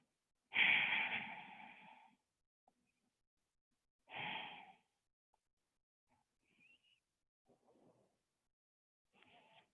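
Slow audible breaths taken while holding a yoga lizard pose, two long exhales several seconds apart in a quiet room, followed by faint shuffling.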